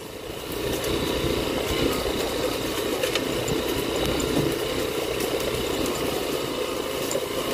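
A steady, droning engine rumble fills the air, like motorcycles running nearby on a rural road, a constant loud hum with no breaks and no talking.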